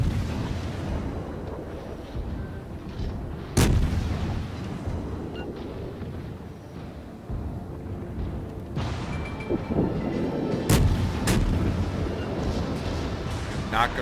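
Warship guns fire in the naval combat game World of Warships: a few sharp, booming blasts rise over a low, constant rumble of engine and sea noise, with someone talking at times.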